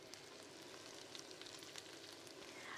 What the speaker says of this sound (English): Now we're going to just put the mushrooms in like that, you see, and they're going to fry